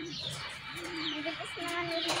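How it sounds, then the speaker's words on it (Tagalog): Racing pigeons coo softly in a loft at home, with faint chirps over a steady background hiss and no speech. "At andito na nga yung mga ibon natin, oh."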